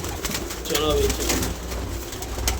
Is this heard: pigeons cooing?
yes